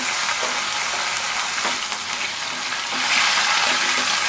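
Bread chilli with red chilli sauce and soy sauce is stirred in a hot pan, giving a loud, continuous sizzle with wet scraping and mixing sounds that grow a little louder toward the end.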